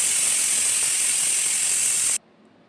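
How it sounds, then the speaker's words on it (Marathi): A pressure cooker boiling green mangoes lets out a loud, steady hissing whistle that runs unbroken for about two seconds, then cuts off abruptly into near silence. "आता कुकरला आपण त्याच्या शिट्ट्या करून घेऊया 2"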